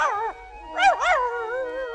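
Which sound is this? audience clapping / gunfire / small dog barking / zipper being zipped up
small dog barking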